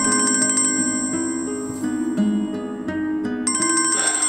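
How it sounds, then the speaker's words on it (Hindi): A phone rings with an incoming call, a loud melodic ringtone with repeated electronic tones playing continuously, briefly dipping before resuming. "फिर आ गया। मलिक साहब का फोन"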